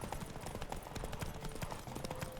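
Horse hooves gallop in a fast, steady clip-clop rhythm during a horse race in The Witcher 3: The Wild Hunt, close and continuous, mixed with other game sound.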